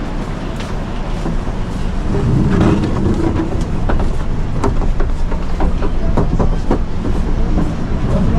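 A KRL commuter train runs at Tanjung Priok station in Jakarta, a loud steady rumble with rhythmic wheel clicks on the rails throughout, with no voices.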